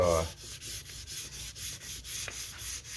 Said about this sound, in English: What I have here is some 600 grit, and I'm just hitting these